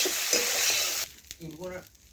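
Okra frying in a wok: a loud, steady sizzle for about a second, then it cuts off abruptly and is followed by quieter scraping and a few brief clinks.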